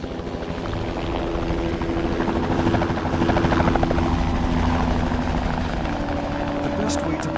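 Helicopter flying en route to Baimuru, a village in Papua New Guinea, its steady rotor chop and turbine drone loud and constant throughout, with voices faintly under the roar.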